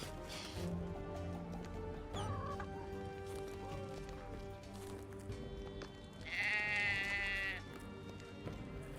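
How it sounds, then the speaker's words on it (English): Sheep bleat in the video game Drova - Forsaken Kin, a few wavering bleats over a quiet ambient game soundscape with soft background tones, the clearest and loudest bleat coming near the end. "Just sheep here."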